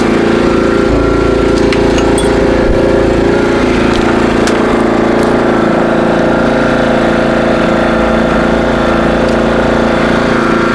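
PowerSmart 3600-watt gas-powered portable inverter generator running nearby, a loud, constant engine drone with a steady humming pitch and faint intermittent ticks on top.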